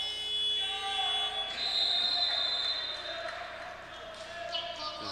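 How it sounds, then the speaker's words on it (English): A shot clock buzzer sounds at a men's college basketball game, a sustained electronic tone held for about two seconds over steady crowd noise and commentators talking in the arena. "that was just off before the shot buzzer went"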